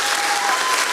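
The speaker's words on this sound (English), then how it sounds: "I meant to hit the applause button for you, actually." Canned applause played from a soundboard button during a live market update show, a brief, loud, uniform burst of crowd clapping that fills the second without pause.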